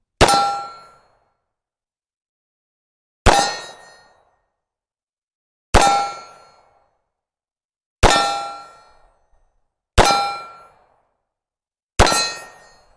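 ParaOrdnance Expert 1911 .45 ACP rounds striking a steel target, six sharp ringing clangs spaced a few seconds apart, each decaying quickly, loud and with no talk over them.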